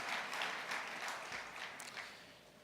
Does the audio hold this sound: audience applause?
yes